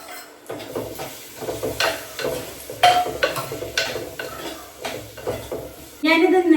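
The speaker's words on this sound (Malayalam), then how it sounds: "ഇതിലേക്ക് നമ്മൾ കട്ട് ചെയ്ത് വെച്ച നേന്ത്രപ്പഴം ഇട്ട് കൊടുക്കാം" Nendran plantain cut into four pieces cooks in a pan with a light sizzle under close clinks and scrapes of a utensil stirring against the metal. A few sharper knocks stand out.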